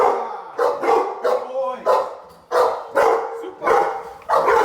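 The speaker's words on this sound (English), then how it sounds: "they're barking to indicate that we have an intruder in the home." Trained Boerboel and Rhodesian Ridgeback guard dogs bark at an intruder inside a home, loud close deep barks in a steady series of about eight bursts with brief gaps.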